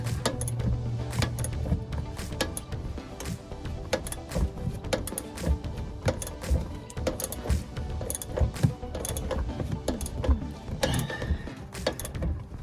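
Wrench tightening a bolt while Procomp shocks go onto a 2019 Ram 2500 truck, heard as a long run of irregular metallic clicks and ratcheting taps, close and fairly quiet, with no talking.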